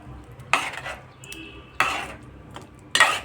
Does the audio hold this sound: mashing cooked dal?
yes